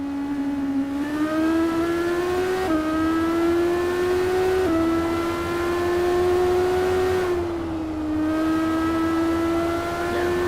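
Formula Student race car engine at Imola, a steady high-pitched whine that climbs in pitch through gear changes, loud and continuous with no voices.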